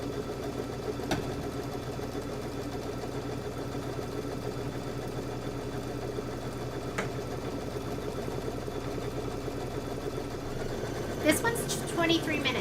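An embroidery sewing machine stitches a tack-down line on a quilted table topper with batting, a steady quiet mechanical whir that runs unbroken throughout, with faint clicks near the end.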